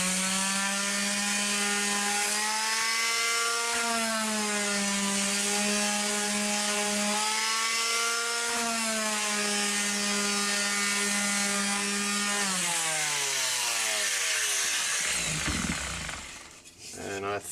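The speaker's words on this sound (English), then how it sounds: "I got the sander out, just a little Ryobi palm sander" A small Ryobi palm sander runs steadily on a wooden knife handle, a loud continuous motor whine with a strong tonal hum that dips and shifts pitch as pressure changes, then winds down near the end.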